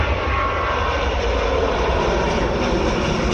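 Air Algerie Boeing 737-800 jet taking off, a loud steady roar of engines with broadband rumble and hiss, close and continuous throughout.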